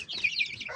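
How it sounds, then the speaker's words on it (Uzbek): Ornamental chickens and roosters on a poultry farm giving a brief, faint burst of clucking, less than a second long, with no voices. "Endi bu ko'p xo'roz."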